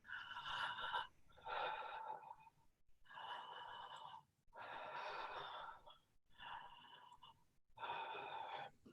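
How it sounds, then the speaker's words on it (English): Continuous open-mouth connected breathing, each inhale and exhale running into the next with no pause, loud and close in a quiet room, in roughly six equal breath phases. "connected breathing, and it looks like this."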